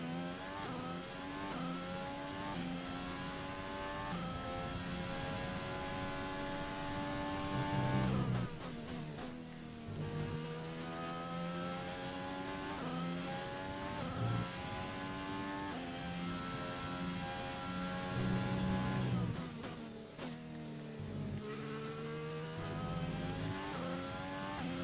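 F1 race car engine in the video game F1 2020, a sustained high-pitched whine rising through the gears with brief dips on shifts and braking, repeating lap after lap, no talk.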